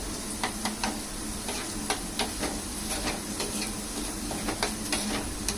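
Cauliflower poriyal stir-fry being turned in a pan, with repeated sharp scrapes and taps of the spoon over a steady low sizzle, close and moderately loud.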